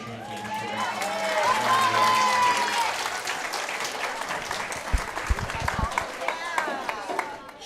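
Applause from a crowd at a county fair cattle show in Las Animas County, a warm burst of clapping that swells and fades over several seconds, followed by scattered thumps and scuffling of a restless steer, with an announcer's voice and chatter.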